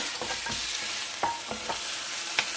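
Meat pieces for a prune tajine browning in a pot, giving a steady hiss with a few brief utensil scrapes and clicks, close up and with no one talking.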